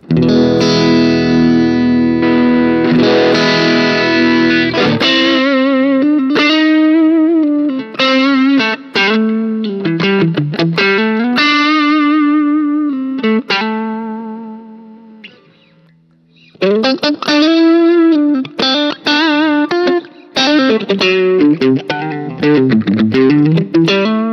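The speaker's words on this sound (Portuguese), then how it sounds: "escute aí sem ele e quando eu adiciono, como é que ele ele traz o, o todo o sotaque, todo o timbre Dumble pro, pro nosso som" Electric guitar through a Dumble-style overdrive pedal, playing expressive bent single-note lines and sustained notes with a smooth, singing drive. It starts with a held chord and pauses briefly near the middle.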